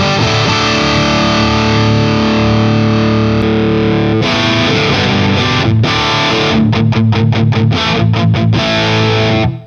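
Electric guitar played through a preamp with a different cabinet simulation, heavily distorted and loud throughout, a sustained wall of crunch that breaks into tight, rhythmic chugging stabs with short gaps toward the end.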